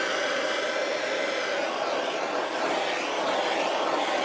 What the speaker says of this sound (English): I'm going to torch to release the bubbles in the paint